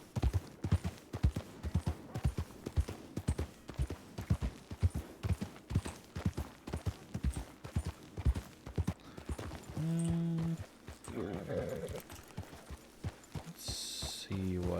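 Horses in a Wild West roleplay game clip-clop steadily with rhythmic hoofbeats close by, mixed with talking voices and a brief whinny.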